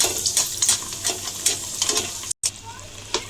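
Sesame-coated jaggery ariselu dough rounds frying in hot oil, giving steady crackling sizzle with bursts of bubbling and a few stirring clicks, close and moderately loud, with a brief dropout near the end.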